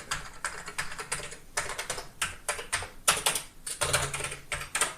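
Someone types on the keyboard of an Amiga A1200 computer fitted with a hard membrane keyboard. Rapid, uneven bursts of close, clacking keystrokes run steadily throughout with no talking.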